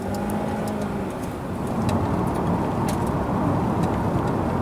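A supercharged 1999 Jaguar XKR driven on the road, its engine a steady low rumble mixed with broadband road and tyre noise, close and continuous with no speech.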